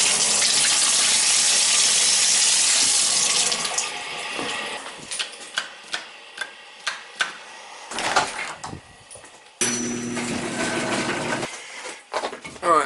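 In a summer home where the water has just been turned back on, a toilet fills with a loud rushing gush. A series of knocks and clunks follows, then another surge of running water.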